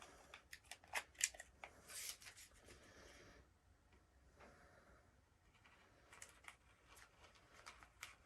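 Scissors snipping through tape for a glass mug sublimation craft, a series of quick faint crisp cuts with quieter rustling handling between them.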